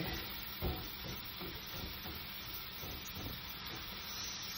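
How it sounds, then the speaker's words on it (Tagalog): Butter, sesame oil, garlic, onions and ginger fry in a pan for a spicy chicken tikka masala, giving a steady close sizzle with soft stirring scrapes throughout and no talking. "So I add already the butter, sesame oil, and garlic, onions, and ginger."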